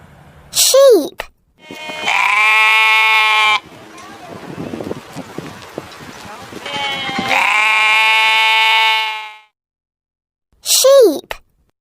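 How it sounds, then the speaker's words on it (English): A sheep gives two loud, sustained bleats separated by rustling and shuffling noise, with a short spoken word before and after. "Sheep."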